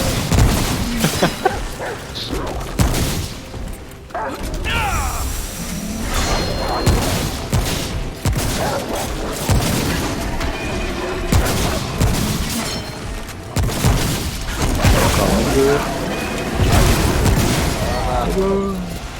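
Gunfire and booming blasts from the video game Remnant from the Ashes, with repeated loud shots and crashes layered over game music and effects, while players talk throughout.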